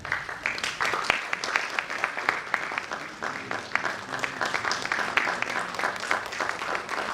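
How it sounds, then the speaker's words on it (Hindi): Sustained applause from an audience at a Hindi stage event, welcoming guests who are honoured with bouquets; dense, steady clapping runs throughout at moderate distance, with faint talk underneath. "आप तालियों के साथ इस कार्य में भागीदार बनें।"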